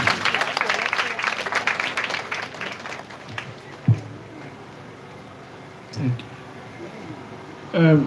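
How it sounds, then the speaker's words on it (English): Audience applause at a health ministry flag-off event for school-age deworming in Ogun State, rising loudly at first with dense clapping and then fading away over several seconds, with a few isolated noises and thumps near the end. "A round of applause for him, please."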